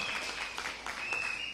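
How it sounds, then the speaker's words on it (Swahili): Crowd of residents of Jomvu clapping at a public address, a dense, steady burst of applause filling the short moment with no voice over it. "Tuwapigie makofi wananchi wetu"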